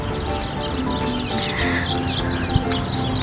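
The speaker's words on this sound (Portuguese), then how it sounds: "quanto passarinho!" Many small birds chirp and twitter continuously in a park in Blumenau, a dense overlapping chorus of high calls with steady background ambience.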